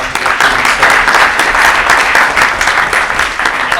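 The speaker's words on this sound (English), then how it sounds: "I think a round of applause to her" A room of guests at a House of Commons honouring event bursts into loud, sustained applause for a young councillor's speech, the dense clapping holding steady for a few seconds before easing slightly.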